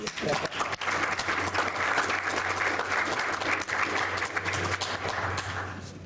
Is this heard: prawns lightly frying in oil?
no